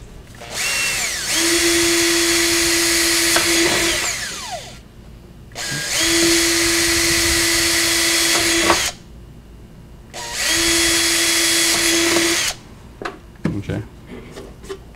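A power drill bores into the wooden body of a 3-string panjo in three long bursts, each whining steadily for a few seconds with pauses between, ending with a few clunks.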